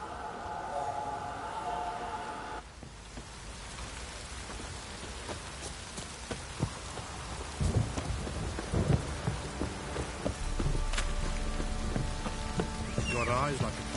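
Steady rain and rumbling thunder fill a stormy scene in The Witcher 3: Wild Hunt, with sharp cracks and low booms over a constant patter, and someone talks partway through.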